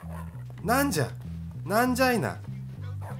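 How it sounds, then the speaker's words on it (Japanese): A dog barking in the video game Bully, two loud, close barks over a low, droning game background, with a voice speaking nearby. "犬びっくりした"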